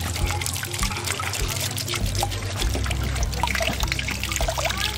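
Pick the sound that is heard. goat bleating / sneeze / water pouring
water pouring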